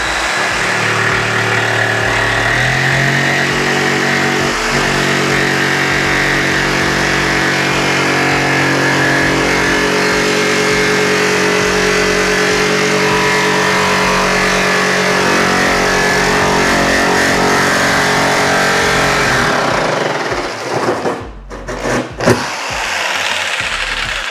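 A power tool cuts steadily and loudly through a carbon fiber Camaro trunk with a continuous close-up grinding whine, then sputters and stops near the end.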